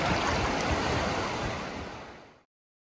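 Sea waves wash onto Nagaon beach near Alibaug in a steady, loud, broadband surf roar with light wind, holding for over two seconds before cutting out to silence.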